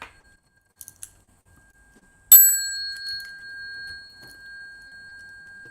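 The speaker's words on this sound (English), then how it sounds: "Bell sound" A bell struck once after a few faint taps, ringing out clearly and then decaying slowly into a long, clear tone in a quiet space.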